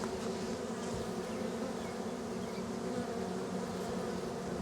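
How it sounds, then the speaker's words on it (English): A dense, steady buzzing of many bees swarming close by, continuous and loud with no pauses. "More and more bees are going in there."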